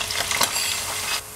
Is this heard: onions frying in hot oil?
yes